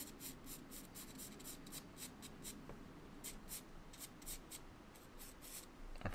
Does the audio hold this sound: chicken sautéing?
no